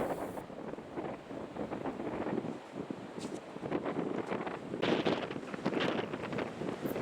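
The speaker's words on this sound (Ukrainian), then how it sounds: "Сьогодні такий сильний вітер" Strong wind buffets the microphone with a continuous rough roar that swells and gusts, with no one speaking.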